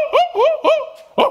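A man imitates a dog barking, four quick, loud yapping barks in a rapid uneven rhythm, close and alone.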